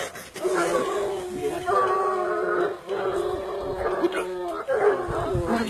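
A pack of Gascon Saintongeois hunting dogs bays and howls continuously at a cornered wild boar during a pack trial, the cries rising and falling at a moderate distance while people talk and laugh nearby.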